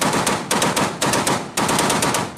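Rapid machine gun fire comes in several short, loud, close bursts of sharp repeated shots with brief gaps between them, with no voices.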